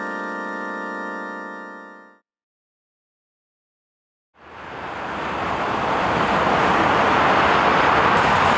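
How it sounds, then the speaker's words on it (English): Steady broadband roar of passing road traffic after a brief tonal hum and a pause of silence, continuous and fairly loud, with no voices. "certainly are a lot of cars here"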